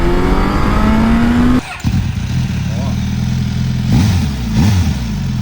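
A Suzuki Katana motorcycle engine idles and revs in B riding mode, a steady mid-pitched drone with a rising note, a brief cut near the two-second mark and later throttle blips, while people talk over it.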